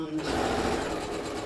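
A sewing machine stitches across a hexagon quilt block, a quick steady rattling run of needle strokes heard close, with someone speaking over it.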